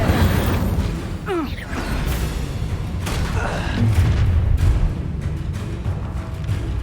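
The Incendio fire spell cast in Hogwarts Legacy, a booming fiery burst within dense, rumbling combat noise that stays loud throughout.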